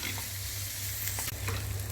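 Ginger garlic paste sizzles hard in a hot pan, a loud close crackling fry with a few stirring scrapes, no voices.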